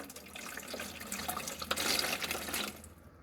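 Distilled water poured into the reservoir of a wall-mounted Krypton air compressor, a soft steady trickle and splash that swells slightly, then cuts off abruptly near the end, close and fairly quiet.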